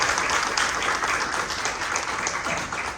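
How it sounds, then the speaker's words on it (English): Seminar audience applause at a foundation event, a steady wash of many hands clapping at moderate volume for a few seconds, with a faint voice underneath. "Let's please give them a round of applause."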